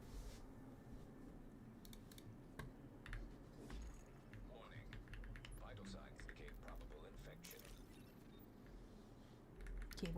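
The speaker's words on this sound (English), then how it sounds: "Keyboard is so loud." A computer keyboard clicks faintly with scattered, irregular keystrokes over a low, steady background hum during a live game stream.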